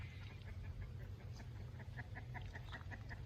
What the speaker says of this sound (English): them chickens are down in the corn barrel